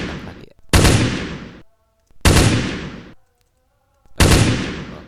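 Three loud, close gunshots in a video game under construction, each a sharp blast with a decaying tail, evenly spaced with silence between.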